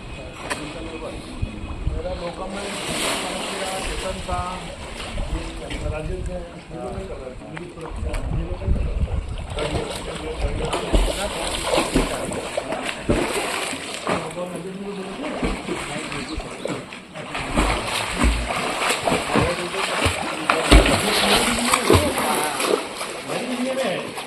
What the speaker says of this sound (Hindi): देखिए स्विमिंग पूल में सब नहाते हुए।